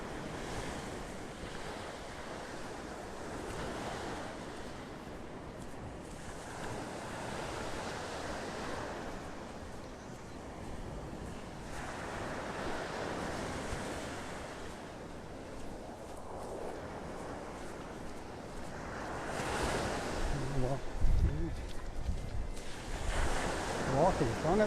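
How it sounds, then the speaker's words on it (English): Small ocean waves wash onto a beach in North Naples, Florida, with steady surf and some wind noise across the microphone, and the surges swell periodically, loudest near the end. "I think these little waves are packing some extra serotonin in them."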